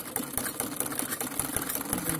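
A sewing machine stitches a salwar in rapid, evenly spaced mechanical clacks, close and loud, a steady running rhythm with no voices over it.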